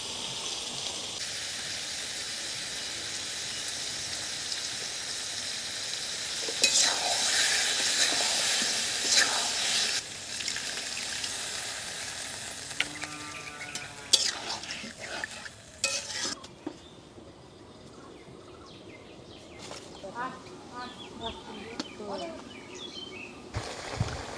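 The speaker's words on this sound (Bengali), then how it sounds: "মশলা কষে উঠছে, এখন মাছ দিয়ে দিলাম মশলার মধ্যে।" River fish frying in spice masala in a village kitchen gives a loud, hissing sizzle that later settles into softer bubbling and crackling, with occasional utensil knocks, close up.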